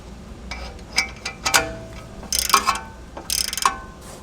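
Ratchet wrench tightening a 16 mm bolt while fitting Ohlins coilovers on a BMW M2 F87, with short bursts of rapid metallic clicking and a few single clicks, close and alone with no talking.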